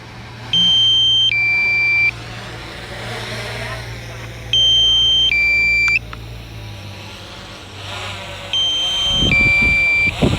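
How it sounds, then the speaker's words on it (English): Three bursts of bright electronic beeps, each a quick two-tone pattern, spaced a few seconds apart over a low steady engine hum. "I hope you enjoyed those beeps."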